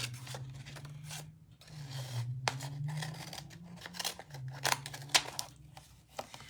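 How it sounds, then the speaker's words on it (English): Card stock is cut for a homemade storage box, with a string of close rasping and snipping sounds over a low steady hum. "I'm just going to cut this"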